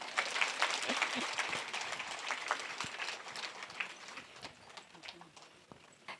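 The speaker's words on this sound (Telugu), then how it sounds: "చప్పట్లు కొడదాం" A live audience at a meditation talk breaks into applause, a dense, fairly faint patter of many hands clapping that gradually thins out.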